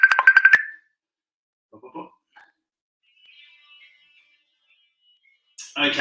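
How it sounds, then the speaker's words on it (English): A phone's ringtone trills in rapid pulses for under a second, then gives way to near silence with a few soft sounds before a voice starts at the end. "phone call going off at the same time there"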